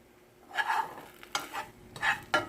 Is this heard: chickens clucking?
no